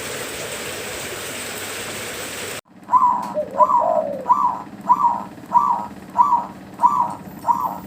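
An old perkutut (zebra dove) held in the hand coos in a steady rhythmic series of soft repeated calls, close by. A loud rain-like hiss plays before the coos start.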